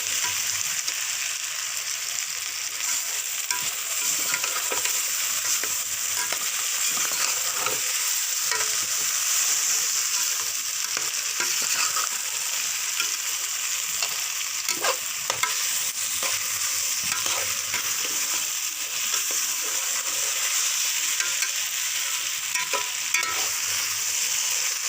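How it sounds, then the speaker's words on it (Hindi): Chopped taro frying with chilli, turmeric and salt for arbi curry, a loud continuous hiss of oil sizzling with occasional stirring scrapes, steady and close throughout. "अब इसको 2 से 3 मिनट तक इसकी भुनाई करें।"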